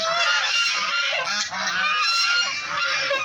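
Loud, close honking from large geese, repeated harsh calls overlapping in a continuous noisy chorus.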